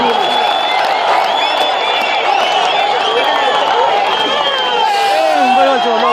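A large crowd claps, whistles and cheers loudly and continuously at an all-Kerala tug-of-war match in Kondotty, with excited whoops rising over the rhythmic applause.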